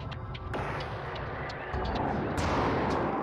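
Ship weapons firing in the space game BossConstructor, a dense rumbling barrage with repeated sharp blasts and a louder surge midway, faint overall and heard without talk.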